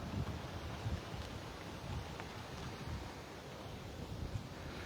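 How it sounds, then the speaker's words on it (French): Low rumbling wind buffets the microphone outdoors in Thailand in uneven gusts, a steady blustery roar with no voices over it. "Dommage qu'il y ait un peu de vent aujourd'hui"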